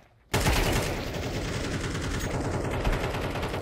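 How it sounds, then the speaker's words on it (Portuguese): Sustained rapid gunfire in a first-person shooter video game, a dense, loud, continuous automatic burst starting abruptly after a short quiet moment and running to the end. "Por que que você tá tocando tiro na smoke?"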